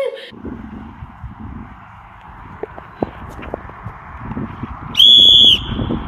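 Quiet scuffing footsteps and faint background noise, then one shrill whistle blast near the end, fairly loud, blown to enforce a curfew on passers-by.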